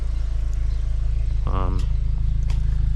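Exhaust of a 300 HP VW GTI with an opened-up exhaust, heard from inside during driving: a steady, loud low-pitched drone with a brief voice cutting in midway.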